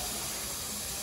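Water running from a tap in a dental lab, a loud, continuous broadband rush of flow lasting about a second, close and steady with no talking.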